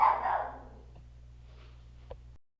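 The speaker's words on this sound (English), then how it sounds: "My apologies, that was my dog Twilight." A single dog bark close by at the start, then near-silence with a faint room hum and a small tap before the sound cuts off.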